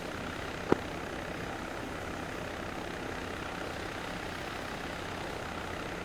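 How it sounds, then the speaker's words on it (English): Helicopter in the Arma 3 video game, a continuous steady engine and rotor drone heard from inside, fairly faint, with one brief click early on. "can't hear you over the chopper"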